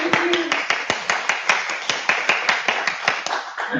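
Audience applause at a Polish academic event on philosophical inquiry with children and youth, a small group clapping steadily for a few seconds, fairly close and uneven.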